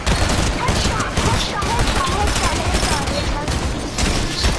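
Rapid bursts of gunfire fill a Fortnite match, dense and continuous with repeated shots and impacts throughout, loud and up close, with a voice faintly mixed in.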